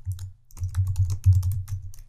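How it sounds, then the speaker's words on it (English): Quick, irregular keystrokes on a computer keyboard, close and clear, with a brief pause before a steadier run of typing. "I am typing that name in the binding"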